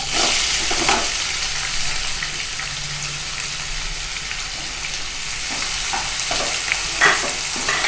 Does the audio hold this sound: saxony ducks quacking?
no